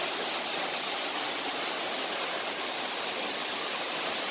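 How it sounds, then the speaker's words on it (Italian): A waterfall in a cave area in Valencia, Spain, pouring as a steady, dense rush of water that stays constant and close with no talking. "E questa è la cascata."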